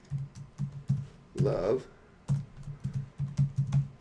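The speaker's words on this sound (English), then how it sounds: "click in the text box, and start typing" Keys clatter on a computer keyboard in short irregular bursts of clicks, fairly close, with a brief stretch of speech interrupting the typing midway.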